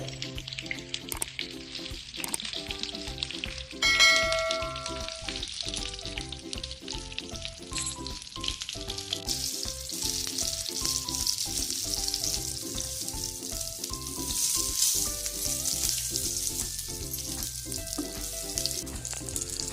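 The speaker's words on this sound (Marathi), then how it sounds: "या तयार तेलाच्या फोडणीमध्ये मसाला भरून ठेवलेली वांगी घालून ती चांगली परतवून घ्या." Masala-stuffed brinjals frying in a hot oil tempering give off a steady, moderately loud sizzle that runs continuously, with tonal sounds layered over it.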